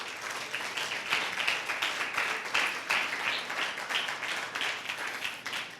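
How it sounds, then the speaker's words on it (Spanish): Church congregation applauding during a Bible teaching service, a dense steady wash of many hands clapping at moderate distance, sustained evenly across the whole stretch with no talk over it. "Denle un fuerte aplauso a Jesucristo."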